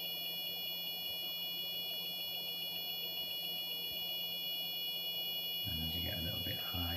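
An Arduino Uno synthesiser with LFO modulation gives off a steady, buzzy electronic tone rich in high overtones, shifting to lower, pulsing, wobbling notes near the end, with no talking.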